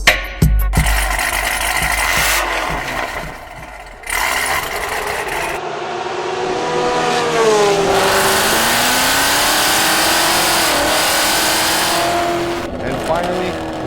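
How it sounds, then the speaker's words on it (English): Highly modified Cadillac CTS-V with a big cam, meth injection, long-tube headers and a Corsa Extreme exhaust, revving loud and close: sharp blips, a sustained rising roar that sags and climbs again, then settles back near idle. "it's a highly modified CTSV, and we went ahead and installed a Corsa Extreme system on it"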